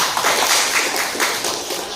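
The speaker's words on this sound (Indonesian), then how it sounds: "Tepuk tangan dulu untuk kelompok 3." In a classroom, students applaud a group presentation with close, bright, rapid clapping from many hands that swells briefly and then tapers slightly.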